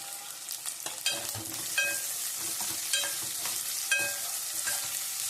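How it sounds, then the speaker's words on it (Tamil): Garlic sautés in a pan as the base for a spicy kara podi fish curry, with a steady close sizzle and occasional scraping stirs of a spoon. "பூண்டு நல்லா வதங்கட்டும்"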